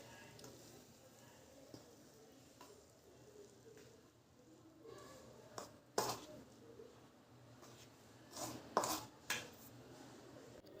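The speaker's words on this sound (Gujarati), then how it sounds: "તેને આપણે ચમચીની મદદથી મિક્સ કરીશું બરાબર." A spoon stirs hot oil into wheat flour for farsi puri dough, giving a few soft scrapes and a handful of sharp clinks against the bowl late in the stretch, over quiet kitchen background.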